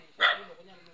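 A single short bark from one of Kuya Danny's dogs, kept alongside pigs and chickens, heard as a quiet, brief yap with a little low background murmur after it.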